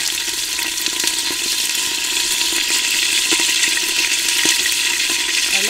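Fat frying in an Afghan kazan pressure cooker over a wood fire, a loud continuous crackling sizzle with steady hiss, close up and without talk.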